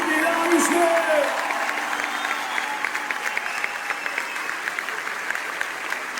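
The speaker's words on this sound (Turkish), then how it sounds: "Cennetten kocaman alkışlarla bu kuvvetli alkışlar." A crowd applauds steadily, loud and sustained, at an acoustic concert, with a brief voice and tonal sound at the start before the clapping carries on alone.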